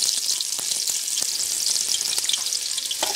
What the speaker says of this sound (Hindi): साथ साथ हमने ऑयल लिया है, और उसके अंदर हमने प्याज लेनी, बिल्कुल छोटी सी एक प्याज डालनी है